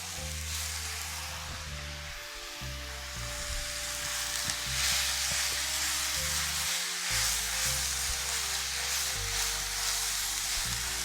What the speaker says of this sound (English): So in goes the sausage.